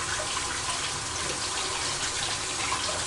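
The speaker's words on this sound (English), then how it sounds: "I'm going to rinse my hands so I can flip those." Tap water runs steadily into a kitchen sink while hands are rinsed during homemade eggplant parmesan prep, a continuous close hiss and splash with no talking.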